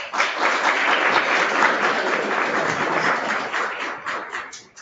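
Audience applause welcoming a speaker at a style talk, a dense, steady burst of clapping from a crowd that holds for several seconds before thinning out and fading.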